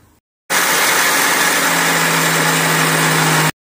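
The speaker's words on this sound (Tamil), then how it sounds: "நம்ம ஜாரில் சேர்த்துட்டு பவுடர் பண்ணி எடுத்துகிட்டு வந்துடலாம்." A mixer grinder jar grinding cooled roasted spices into idli podi powder kicks in suddenly with a loud, steady motor whirr for about three seconds, then cuts off abruptly.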